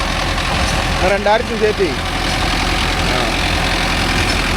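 A Mahindra Arjun Novo 605 tractor runs a rotavator, its engine giving a loud, steady low rumble throughout while someone talks briefly over it.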